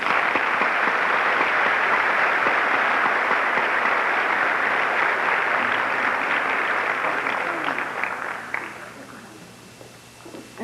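Audience at a summer 1984 commencement ceremony in Daytona Beach applauding the graduating senior class, a dense sustained wash of clapping that carries on for several seconds and then thins out and fades near the end.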